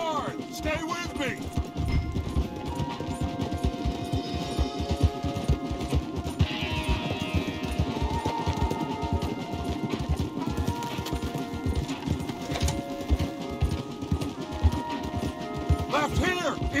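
Several horses gallop hard in the video game Red Dead Redemption 2, a fast, continuous drumming of hooves that runs close and steady from start to finish while voices speak over the riding.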